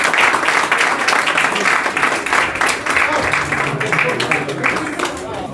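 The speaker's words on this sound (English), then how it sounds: "a big round of applause to Kish and Aaron" An audience at a junior awards night claps steadily in a dense, sustained round of applause, with scattered voices and murmuring from the crowd blended in throughout.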